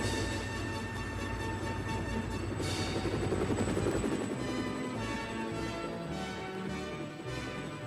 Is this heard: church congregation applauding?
no